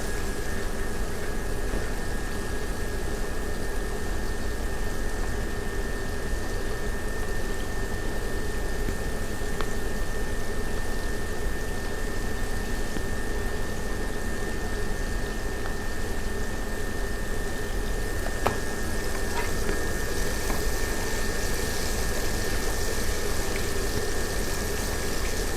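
Food deep frying in cooking oil, a dense continuous bubbling sizzle that stays steady and loud for the whole stretch, with a faint tonal hum beneath and no voices.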